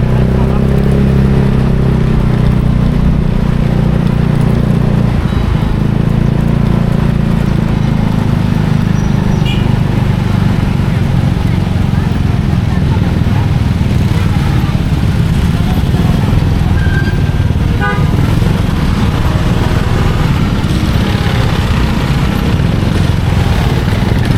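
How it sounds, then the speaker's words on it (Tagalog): Busy road traffic at a Palm Sunday palm-blessing gathering in Malolos, with cars and motorcycles rumbling steadily throughout and a couple of brief horn-like tones, while people talk in the background. "Traffic na."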